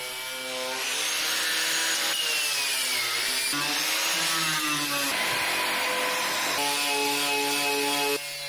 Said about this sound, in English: More grinding.